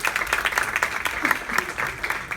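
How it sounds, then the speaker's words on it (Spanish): An audience at a book presentation in Cancún applauds, a brief, lively burst of many hands clapping at moderate volume with some voices mixed in. "Un aplauso también para él"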